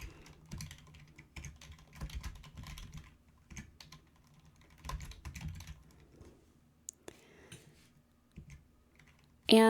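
A student's name typed on a computer keyboard: bursts of quick, close key clicks in uneven runs with short pauses, quiet overall with no talking.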